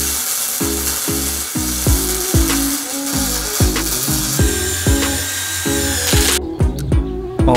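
A pneumatic jack pumps a DIY press brake built from a Harbor Freight press kit, giving a loud, close series of rhythmic ratcheting clunks, each stroke followed by a short hiss of air, repeating steadily, with no talking.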